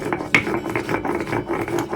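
Fried rohu fish with garlic and chillies being ground on a stone slab with a stone pestle, a steady rough rasping rub with repeated strokes, close and fairly loud, with no voices.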